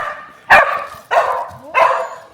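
Dogs on a farm bark three times in sharp, loud bursts about half a second apart, each bark ringing briefly before the next, close to the listener with no talking.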